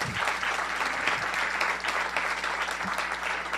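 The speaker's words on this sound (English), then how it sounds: "Let's give her another round of applause." Steady applause from an audience at a portrait unveiling ceremony, a dense sustained patter of clapping hands filling the room at moderate loudness without voices.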